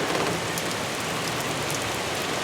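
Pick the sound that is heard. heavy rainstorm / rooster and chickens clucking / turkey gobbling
heavy rainstorm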